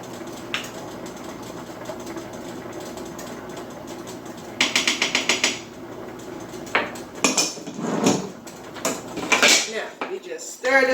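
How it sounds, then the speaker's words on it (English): Onions and bell peppers for a tomato pasta sauce are stirred in a pot with a little oil, giving bursts of metal utensil scraping and clattering that come and go, loud and close. "Stir this all up if I can."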